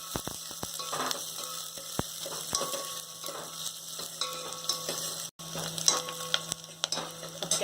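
Curry leaves crackle and sizzle in hot oil for horse gram sambar, a steady close frying hiss broken by a few sharp pops and the scrape of a stirring spoon.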